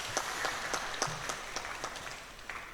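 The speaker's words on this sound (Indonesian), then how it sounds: "Tepuk tangan untuk Jayapura." Scattered hand claps from a modest audience in a hotel workshop room, with individual sharp claps standing out at irregular intervals over a low room murmur.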